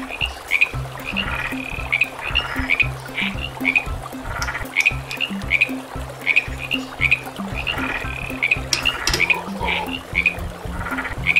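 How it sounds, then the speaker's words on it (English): Frog croaking in a steady, repeated pattern of short calls, close and loud, with no other sounds over it. "Frog."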